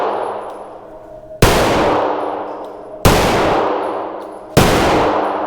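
A Sig P211 pistol fires three loud, sharp shots at steady intervals of about one and a half seconds, each followed by a long echoing decay.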